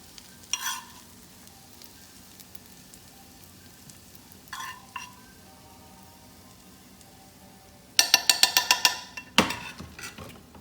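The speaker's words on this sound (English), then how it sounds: "I'm gonna scoop some of these delicious Brussels sprouts on this pan right here" Brussels sprouts sizzle faintly on a hot pan, with a soft steady hiss marked by two brief scrapes and then a loud burst of rapid clattering as they are scooped onto it.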